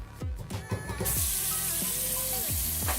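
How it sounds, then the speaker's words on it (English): Water from a hotel bathroom sink faucet starts with a few splashes and gurgles, then gushes in a strong, steady hissing stream close by, with no one talking. "Pretty solid water flow."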